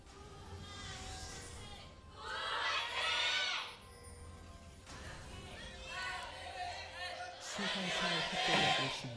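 Korean esports crowd at an LCK Summer 2015 League of Legends match cheering chaotically for team Anarchy, with bursts of screams and whoops rising and falling in waves over a steady arena murmur.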